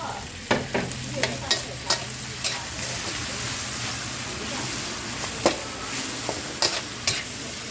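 Crispy pork stir-fried in a pan with curry paste and holy basil: a steady close sizzle runs throughout, broken by sharp spatula clacks and scrapes at irregular intervals, with no talking.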